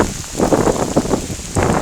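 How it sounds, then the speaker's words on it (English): Gusty wind moves through a rainy forest on Lamlash, Isle of Arran, a loud rushing roar that swells and eases in irregular surges, with rustling and rain-like hiss close to the microphone. "it's kind of windy"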